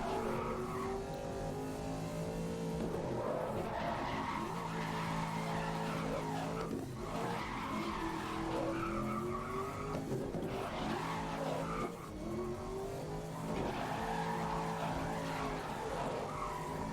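Race cars in a GRID video game race, engines droning steadily and loud throughout with repeated tire squeals and skids through corners, revs rising and falling in a cyclic pattern.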